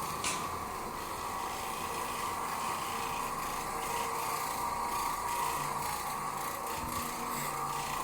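Oreck Orbiter carpet cleaning machine running over room carpet, a steady loud whirring and scrubbing drone with constant rubbing texture, close and continuous, no talking.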